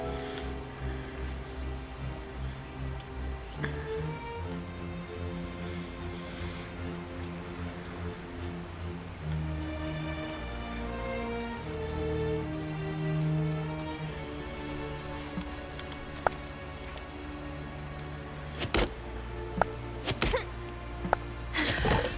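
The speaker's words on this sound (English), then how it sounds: "nothing like wandering the wood on a rainy night" Steady rainfall at night in the video game Wylde Flowers patters beneath sustained musical tones, with a few sharp knocks and thuds toward the end.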